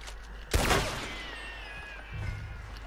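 A single loud gunshot in the Western video game Red Dead Online cracks out sharply, followed by a ringing tail and fading echo, then quiet ambience with a low rumble returning.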